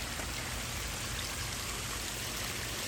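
A small garden waterfall pours into a shallow pond, making a steady, close, unbroken splashing rush with no pauses or voices.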